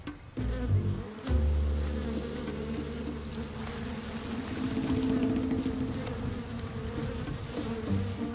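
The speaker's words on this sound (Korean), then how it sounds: "파리도 쫓아야 하고" Flies buzz in a dense, continuous drone around a large fish near a burrow on a tidal shore. The sound is loud and close, swells and fades slightly, and carries no speech.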